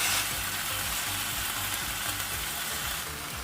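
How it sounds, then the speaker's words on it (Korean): Marinated pork shoulder stir-frying in a pan over medium heat, a steady close sizzle with light scraping and stirring throughout, no voices. "양념에 둔 고기를 넣고 중간불에서 볶아주세요"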